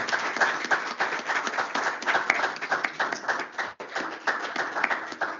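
Audience applause at a lecture on the School of Salamanca's legacy in economic thought, a dense, steady wash of many hands clapping close by, holding loud throughout with a brief dip near the end.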